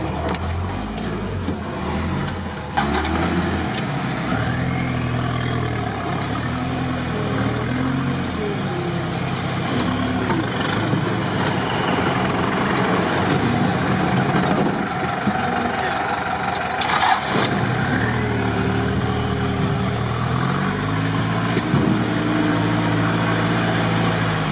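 A GAZ-63 off-road truck fitted with larger reduction gear hubs drives slowly off-road, its engine a steady low rumble that rises and falls throughout, with someone talking over it.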